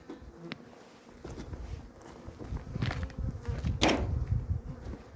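Honey bees buzz around an open hive while weak, varroa-damaged colonies are combined, a dense continuous drone that swells louder toward the end, with occasional soft knocks from handling.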